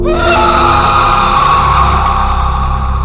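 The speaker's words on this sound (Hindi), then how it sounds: "तभी वहां अचानक किसी के चिल्लाने की आवाज आई" A loud, sustained scream rings out as a horror-story sound effect, strained and harmonic, holding steady for about three seconds with no talk over it.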